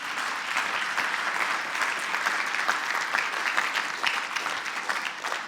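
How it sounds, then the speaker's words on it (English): Audience applause after a featured speaker at a CIS 2022 event, sustained, dense and steady clapping from a crowd for the whole stretch, fairly even in level with no voices over it. "let's give them a big round of applause."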